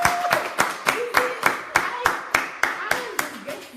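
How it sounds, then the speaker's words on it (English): An audience at a talk on the Nigerian economy claps in a steady, even rhythm, about a dozen loud claps in quick succession, with voices faintly under the beat. "Clap for yourself."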